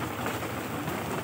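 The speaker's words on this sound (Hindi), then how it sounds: "बारिश बहुत हो रही है" Heavy rain pours steadily in Tharparkar during a bike tour, a dense, even hiss of drops hitting surfaces with no pauses and no voices over it.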